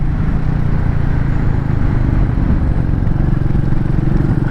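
Royal Enfield Meteor 350 motorcycle ridden at full throttle, its engine a loud, continuous low roar with steady rumble and road noise throughout, close and constant without breaks.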